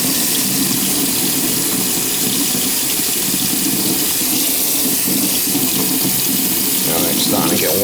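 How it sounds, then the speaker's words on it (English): A tap pours warm water into a sink in a steady, close, continuous rush for several seconds, with a faint rumbling undertone and no clear speech, during a toilet replacement. "we'll just fill it with warm water"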